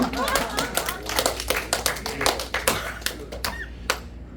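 Congregation clapping in a seminary chapel, a run of sharp, fairly close hand claps in an uneven rhythm lasting a few seconds.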